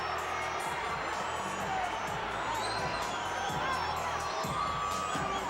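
A boxing arena crowd roars and cheers steadily throughout, loud and continuous, with a commentator talking over the noise.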